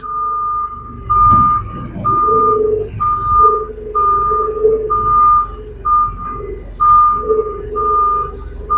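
Repeated reversing beeps from a vehicle backing up a steep hill in low gear, steady evenly spaced tones sounding clearly over a low engine rumble, with a few bumps.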